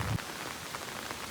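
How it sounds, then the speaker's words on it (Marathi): Heavy rain falling in Konkan, a dense steady patter on surfaces nearby with a brief louder thump at the start. "तो पाऊस दिवसभर लागतोय."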